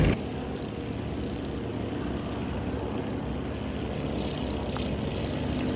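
A propeller airplane in Flight Simulator X drones steadily as it passes, with a loud, even engine roar filling the whole stretch and no talk.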